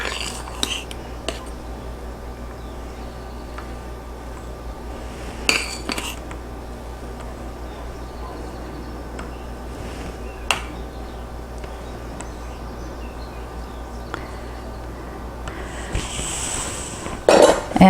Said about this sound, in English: I am just going to spoon some of this delicious sauce right over the